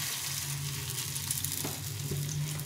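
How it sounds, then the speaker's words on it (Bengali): Vegetable pakora fritters fry in oil in a small wok over low heat, giving a steady, close sizzle that runs unbroken throughout with no talking. "এরকম করে বড়ার শেপে সবগুলো ভেজে নিতে হবে।"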